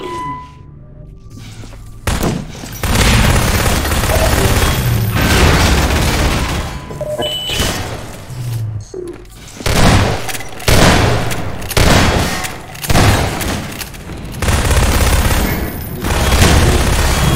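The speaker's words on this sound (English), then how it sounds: "Random nades." Repeated grenade blasts and gunfire in a Half-Life 2 Deathmatch match, loud dense booms and bursts layered almost continuously with short gaps.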